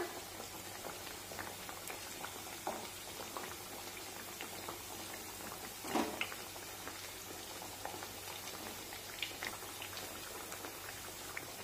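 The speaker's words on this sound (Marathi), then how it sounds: "मध्यम आचेवर वड्या दोन्हीही बाजूने छान सोनेरी रंगावर तळून घ्यायच्या" Coriander vadi frying in oil in a pan over medium heat gives a steady, quiet bubbling sizzle that holds even throughout, with one brief louder crackle midway and no voices.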